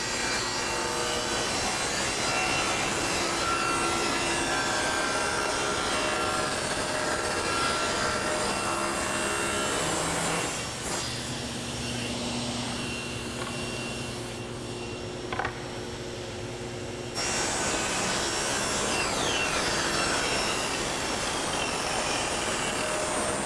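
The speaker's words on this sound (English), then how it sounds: "I'll start with the flat side against the table, and I'm going to make my rip at 45 degrees." Table saw ripping crown molding at a 45-degree angle, a long steady loud whine and cutting roar with a brief change in tone partway through, with no talk.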